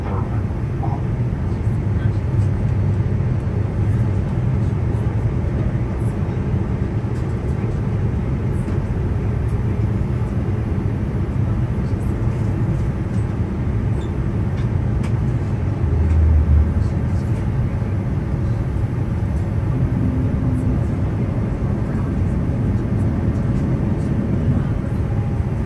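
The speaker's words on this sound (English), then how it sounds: "Cleared for our final approach." Inside the cabin of a Hawaiian Airlines Dreamliner on final approach to Honolulu, a loud, steady low engine and air roar continues throughout, with a cabin announcement heard over it.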